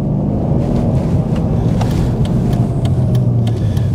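A car engine drones steadily with a low rumble, pulling continuously as it gathers speed, close and loud throughout.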